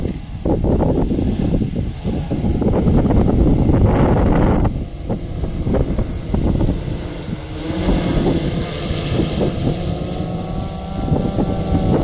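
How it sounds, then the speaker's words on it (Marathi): Strong wind buffets the microphone in rough, rumbling gusts over a sugarcane field, with the whirring motor drone of a spraying drone underneath, steady and close throughout. "हवा चालू आहे"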